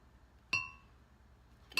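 A spoon stirs caramel into apples inside a glass jar, giving two sharp, ringing clinks about a second apart, close and fairly faint, against near silence.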